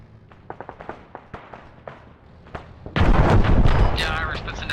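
Mohawk helicopter gun run in a military video game: sharp sporadic shots early on, then a loud sustained burst of heavy automatic fire that rumbles on to the end. Talk and radio chatter run underneath.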